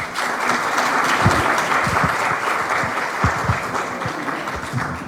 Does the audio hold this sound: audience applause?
yes